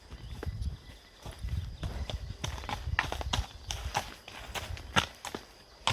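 A calm, bomb-proof horse walking on an outdoor ride, hooves clip-clopping in a steady, close rhythm of sharp distinct strikes, with brief snorts and faint voices in between.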